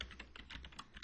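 Quick keystrokes on a computer keyboard, a steady run of close, quiet clicks with slightly uneven rhythm and no voices.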